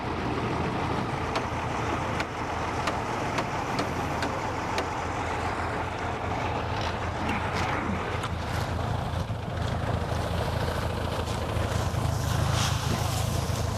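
Tractor engine running nearby outdoors, a loud steady rumbling drone with intermittent clanks and knocks over the top and faint voices in the background.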